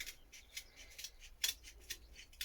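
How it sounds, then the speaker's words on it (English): Shears snipping repeatedly at a small piece, a run of light, crisp metallic cuts in a quick, fairly even rhythm, close and quiet. "I'm actually able to snip it off."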